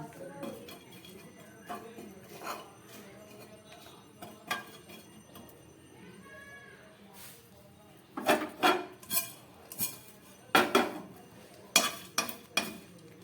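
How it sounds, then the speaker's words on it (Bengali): Cardamom and cumin dry-frying in a frying pan, with intermittent metallic clinks and scrapes of stirring that grow louder and more frequent toward the end, with faint talk in the background. "এই মশলাগুলোকে আমি একটু হালকা করে ভেজে নেব।"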